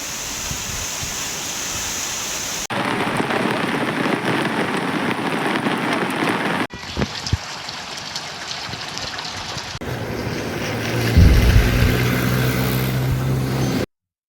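Heavy, continuous monsoon rain during flooding in Karjat taluka, with landslides and submerged bridges, pours in a loud, dense hiss across several cuts, with flowing water audible beneath.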